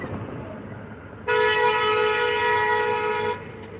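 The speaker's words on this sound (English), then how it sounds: "You see the bitch honking at me, man?" A vehicle horn honks at a truck in one sustained, loud blast of about two seconds, heard from the cab over low road rumble.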